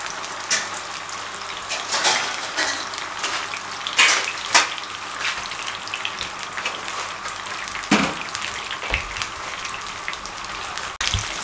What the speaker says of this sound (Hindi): सेंटर में टमाटर, ये भी फ्राई करने हैं।